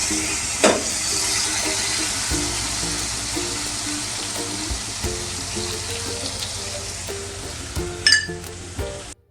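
Spiced chili water poured into a pan of frying hilsa fish, a steady bright sizzle throughout with occasional clinks of utensils against the pan, close and loud.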